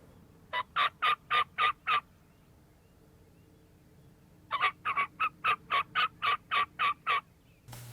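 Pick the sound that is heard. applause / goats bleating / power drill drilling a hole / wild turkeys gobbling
wild turkeys gobbling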